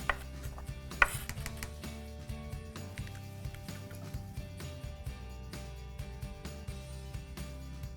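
Knife slicing an onion on a cutting board in a home kitchen, a steady series of soft, close chopping taps with occasional louder knocks, no talking.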